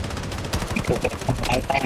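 Quick bursts of automatic gunfire rattle in a Blood Strike match on PC, loud and close, mixed in under excited talking voices.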